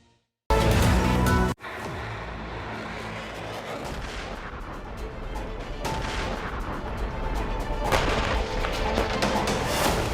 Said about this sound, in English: You can hear explosions.